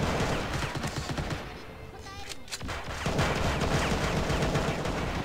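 Rapid gunfire in the mobile shooter game Argent Wings, a dense continuous stream of shots that dips briefly then returns at full volume.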